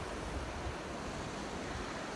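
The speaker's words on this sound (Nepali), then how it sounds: "हामी चाहिँ समुद्रमा आइपुगेछौँ यहाँनिर खत्रै छ समुद्र चाहिँ" Ocean waves on the sea shore at Jeju Island, Korea, make a steady, dense roar of surf with wind noise and no clear breaks, loud and continuous throughout.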